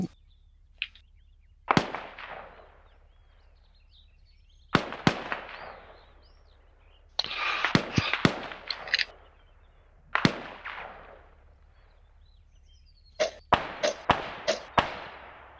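Gunfire in Arma 3 on the Malden map: sharp single shots and short irregular bursts crack out, some close and loud, others more distant with echoing tails, over near-silence.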